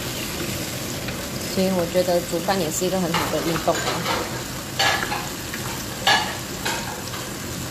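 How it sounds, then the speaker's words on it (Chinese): Tomato fries in a hot pan, a steady sizzle with scraping stirs and clinks of a utensil, while a person talks over the cooking. "看我们在爆香的那个 tomato"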